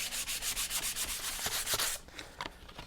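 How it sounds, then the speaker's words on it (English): Coarse 36-grit sandpaper rasps across wood with fast, rhythmic back-and-forth strokes that are loud and close, then thin out into a few lighter, scattered rubs. "that 36 grit just ate up the wood. Just tore through it."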